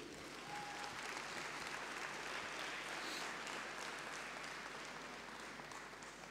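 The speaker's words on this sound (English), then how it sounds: "So a big audience, a big clapping for Peter Breiner on stage." An audience at the Honest Conference 2013 applauds a speaker on stage: dense, steady clapping from a large crowd, fairly distant and even throughout, with no talking.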